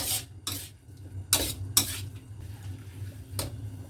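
Hairy melon stir-fried with dried shrimps in a pan, with several brief, crisp spatula scrapes and clanks against the pan at uneven intervals over a low, steady background hum.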